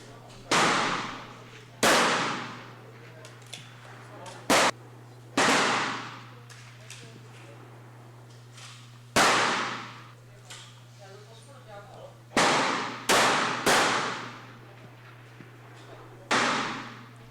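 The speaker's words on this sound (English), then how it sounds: "Rapid fire vents. 10 shots for 1 minute." Sharp gunshots fired in a rapid-fire event at a shooting competition, about ten loud separate cracks at irregular intervals, each followed by a short echo, over a steady background hum.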